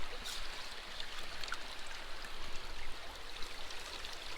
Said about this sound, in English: I think the water's up just a little bit, and you can see that the material's going real fast through my sluice here